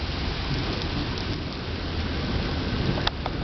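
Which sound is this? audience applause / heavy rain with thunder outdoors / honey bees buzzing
heavy rain with thunder outdoors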